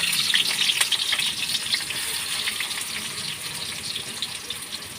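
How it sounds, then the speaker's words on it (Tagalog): Onion, garlic, ginger and sliced green chili sauté in a hot pan with a steady, hissing sizzle that stays even throughout, close and moderately loud, with no voices. "So, gisahin natin lahat po yung ricados."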